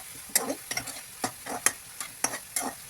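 Chilli potatoes with Kashmiri red chilli powder and cumin powder are stirred in a sizzling pan, about eight sharp, rhythmic spatula scrapes close up over a soft frying hiss.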